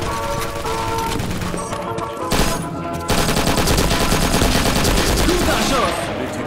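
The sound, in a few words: MG42 machine gun fire in video game Karma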